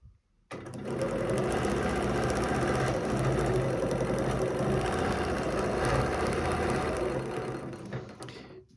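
A sewing machine doing free-motion ruler quilting, its needle running in a fast, steady mechanical chatter that starts abruptly, holds an even pace for several seconds, then stops, close and clear with no talking.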